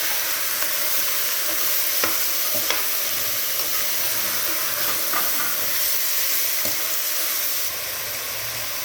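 Peas and soybeans stir-fry in a hot pan with a loud, continuous sizzling hiss and a few faint utensil taps as they are moved around.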